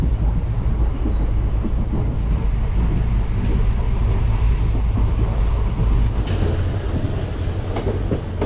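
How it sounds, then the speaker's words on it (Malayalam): A passenger train on the Mysuru to Chamarajanagar line rolls along a curve, heard from on board. A loud, steady rumble runs under a faint clickety-clack from the wheels, with no voices. "ഇവിടെ ട്രെയിൻ വളഞ്ഞ വരെ നീങ്ങുന്നത്."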